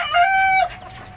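A single White Hats hen gives one short, clear, nasal cluck close by on a farm, standing alone without talk.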